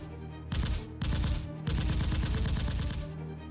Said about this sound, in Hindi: हमलावरों ने 25 से 30 राउंड फायरिंग की।